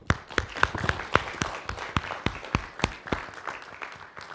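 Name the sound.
audience clapping as practice applause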